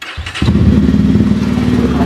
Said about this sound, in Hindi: ओके, बाइक को स्टार्ट करते हैं फाइनली।